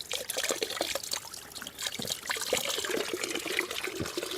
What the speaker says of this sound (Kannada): ಇಲ್ಲಿ ಒಳಗಿಂದ ನೀರು ಬರ್ತಾ ಉಂಟು.